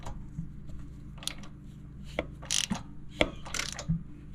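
Ratchet tightening a spark plug and crushing its crush washer during service on a Kubota Kommander Z125S mower, with a few quiet separate clicks and metallic ticks spread over a few seconds.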